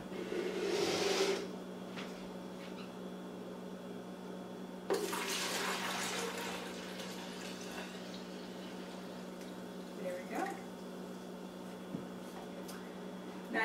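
Strained wintergreen tea is poured into a container in two close, splashing streams of liquid, each a few seconds long, with quieter trickles and drips between them.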